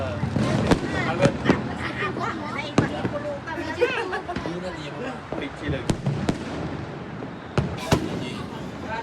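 Dense New Year's Eve fireworks at a Filipino family celebration, with sharp loud bangs and cracks bursting repeatedly over a constant background of crowd chatter and voices.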